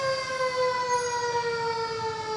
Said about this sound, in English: they're wanting Jim Brown to pull over, or are they just blowing that siren for fun there, James?